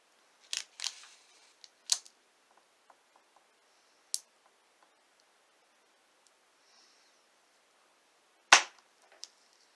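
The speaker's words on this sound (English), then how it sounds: "What happens if I try to cut this milk chocolate?" A knife cuts through a hollow milk chocolate candy pumpkin with no filling, giving a few sharp, isolated cracks and snaps separated by quiet gaps, the loudest near the end.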